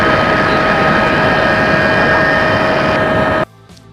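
Airplane engine roar as a sound effect, a loud steady drone with sustained tonal whine that holds level and then stops abruptly; no talking.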